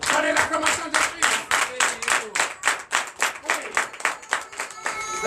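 Church congregation at a Sunday service clapping in a rapid, steady rhythm, many hands together, fairly loud and continuous, with faint voices underneath.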